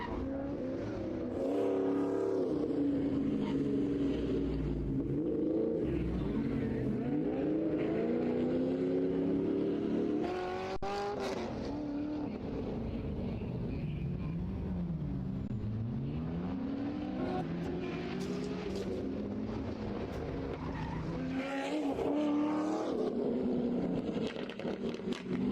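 A race car driven around an autocross course, its engine droning and rising and falling through the run with steady revving, continuous and fairly loud, with tire noise at times.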